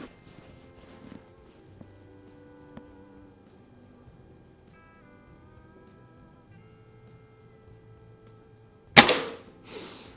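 A Norica Omnia ZRS wooden-stocked spring-piston air rifle fires at an outdoor range, one sharp loud shot with a brief ringing tail near the end after a long quiet stretch.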